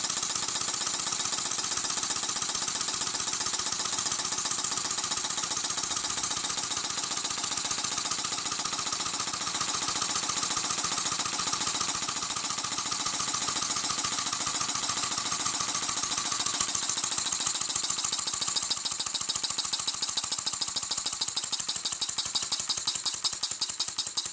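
A small single-acting air or steam engine with little rocker arms and valves runs with a fast, even, tapping clatter, loud and close, its rhythm gradually quickening as it speeds up, with no voices.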